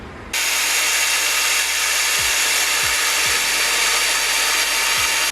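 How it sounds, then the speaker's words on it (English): A loud power drill whirs steadily for several seconds, drilling mounting holes in metal for a trike frame, with a few brief dips in pitch as it bites in. "We're now about to drill the holes to mount these to the frame"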